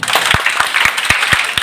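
Audience applause at a college voter-awareness drama event rings out as a steady patter of many clapping hands, with several louder, sharper claps from one nearby person standing out at a regular pace above the crowd.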